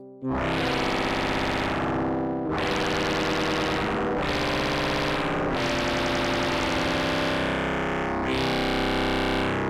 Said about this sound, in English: the phasing of all the harmonics that are interfering with each other due to it being tempered creates that sound when it goes through distortion.